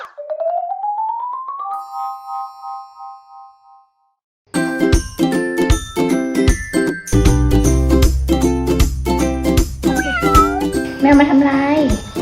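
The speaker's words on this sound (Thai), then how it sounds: "แมวมาทำไร" A cat meows in a rising call in a home kitchen where a Thai stir-fried noodle dish is being cooked, then bright chimes and music take over.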